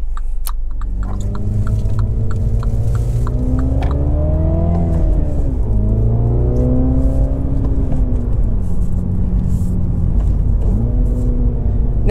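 A new Mini with a manual transmission and automatic rev matching revs loudly and close by, its engine tone climbing and dipping through several gear changes over a constant low rumble.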